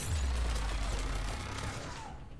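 Cerberus turrets in Mass Effect 3 firing in a dense, continuous fusillade, loud and close with a heavy low rumble, easing slightly toward the end.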